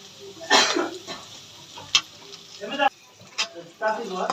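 Peas tipped into carrots frying in butter, with sizzling and scattered stirring clatters in a pan; a few separate bursts of movement rise above a low background frying hiss, close by.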